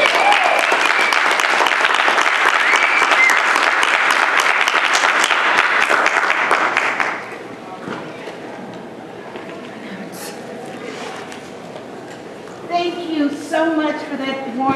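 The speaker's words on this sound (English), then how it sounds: "May I please get a round of applause for" An awards-event audience claps loudly for Dr. Lenzina Thomas for about seven seconds before the applause drops away, leaving quieter room sound and a voice at the end.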